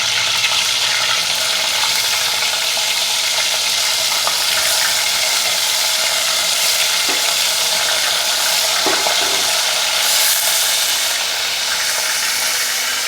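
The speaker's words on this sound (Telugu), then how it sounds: "నూనె వేడెక్కాక కర్రీ కడిగి పెట్టుకున్న కరవాడు వేయించుకోవాలి" Dried fish frying in hot oil for a dry fish gravy, a steady loud hiss and crackle of bubbling oil that carries on unbroken throughout, with a few soft clinks and stirring knocks from the pan.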